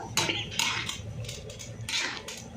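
A spoon knocks and scrapes against a metal pot as shengole dumplings are stirred in boiling water, giving a few soft clinks and scraping strokes at close range.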